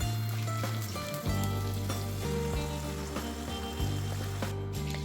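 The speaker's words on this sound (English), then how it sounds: "this is one of the important secrets to really good moussaka, is to fry your potatoes" Sliced potatoes fry in hot oil for moussaka, giving a steady close-up sizzle with crackle. A low tonal hum runs under it, broken now and then by soft clicks and shifts.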